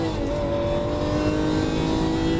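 A Lamborghini Aventador on a race track under hard acceleration, its engine note loud, steady and close, with a rising tone held through the whole short stretch.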